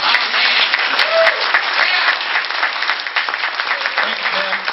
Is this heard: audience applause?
yes